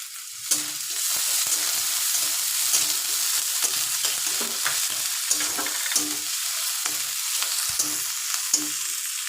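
Cumin seeds and onion fry in a pan in a steady bright sizzle, with irregular clicks and scrapes of stirring scattered throughout and no voices.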